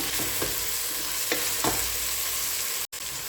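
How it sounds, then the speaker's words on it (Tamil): Mixed vegetables for vegetable biryani sautéing in a pan, a steady low sizzle with a few soft stirring scrapes and a brief dropout near the end, quiet and close, no speech. "சேர்த்து நல்லா வதக்கி விட்டுக்கலாம்"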